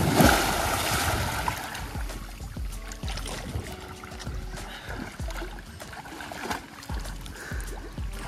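Water splashes in the Bhagirathi river as someone wades in to bathe, producing repeated close sloshes and churning in an irregular rhythm over a soft background of flowing water.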